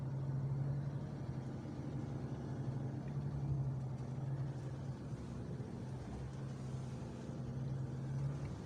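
A truck engine runs steadily with a low, constant drone while the driver downshifts manually through the gears, with no one talking over it.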